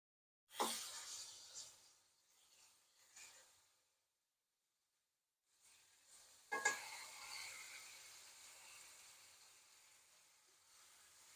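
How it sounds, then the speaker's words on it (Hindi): Goat trotters sizzling with garlic in a hot pot, a loud burst of frying at the start that fades, a brief quiet, then a second strong sizzle that settles into a steady hiss. "अब पाए शामिल कर देते हैं इसमें"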